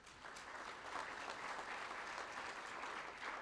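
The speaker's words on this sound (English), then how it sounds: "let's give a round of applause" A round of applause at a wildlife economy summit, greeting a head of state; faint, continuous clapping from a large audience, even and steady for several seconds, heard from a distance.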